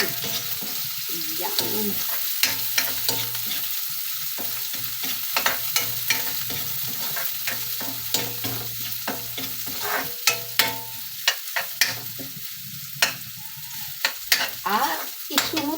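Vegetables sizzle in a pan with garlic, onion and tomato for pakbet, the steady frying crackle broken by frequent close stirring scrapes, with a brief spoken word.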